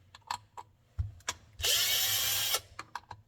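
A power drill spins for about a second, backing screws out of a digital door lock during disassembly, framed by short ratcheting clicks and light handling knocks before and after.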